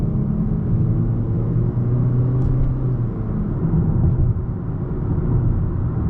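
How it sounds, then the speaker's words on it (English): Steady low road rumble inside a 2021 Toyota Corolla moving at 45 mph, with faint wind hiss and a constant drone throughout; nobody speaks. "I can definitely hear the wind going through the cabin a little bit. I can hear a little bit of the traffic."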